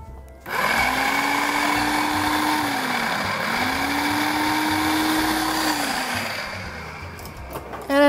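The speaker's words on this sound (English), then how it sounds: "in the food processor, because there's not a whole lot of stuff in there, you have to kind of scrape the sides so you don't end up with big pieces" A food processor whirs through cucumber and herbs for a triple herb cucumber soup in two long, close bursts with a brief pause between them. It then winds down, and a short clatter follows.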